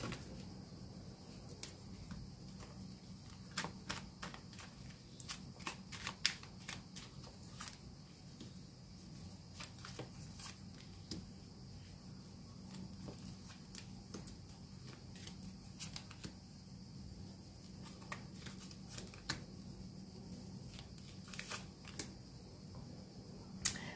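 Tarot cards are shuffled during a card reading, producing many quick, soft riffling and snapping clicks in an irregular rhythm over a faint room hum, close and quiet.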